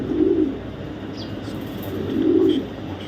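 A racing pigeon coos twice in low, soft, throaty calls about two seconds apart, close by, with faint chirps from other birds in the background.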